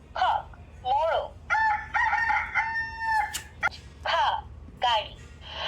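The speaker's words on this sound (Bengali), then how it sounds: "cock মোরগ" A rooster's cock-a-doodle-doo from a children's sound book plays as a series of loud, close crowing bursts, each rising and falling in pitch, repeated several times in quick succession.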